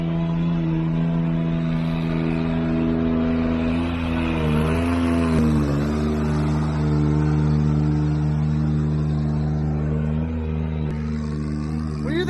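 A tree work crew's car rolls up nearby, its engine humming steadily and shifting pitch as it slows and arrives, a continuous mid-level motor sound with no talk.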